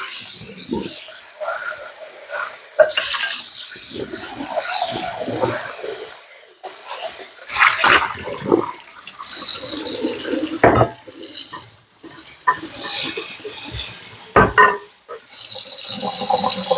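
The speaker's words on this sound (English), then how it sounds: "I don't want to leave that hot water running in it" Hot water runs from a tap into a kitchen sink, a steady hiss and splash mixed with clinks of dishes, while someone talks over it.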